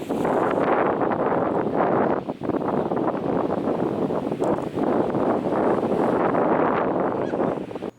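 Strong outdoor wind buffets the microphone in a steady, loud roar with gusty surges and a brief lull, continuing without voices until it cuts off at the end.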